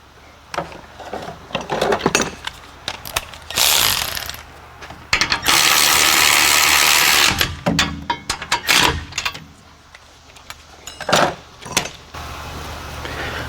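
A ratchet clicks rapidly while tightening a caliper bracket bolt on an Acura MDX during rear wheel bearing work, in quick close bursts with one long sustained run in the middle.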